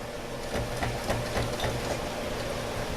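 Sewing machine stitching fabric for a kitchen organizer, a close rapid mechanical whir with regular rhythmic stitch pulses running steadily throughout.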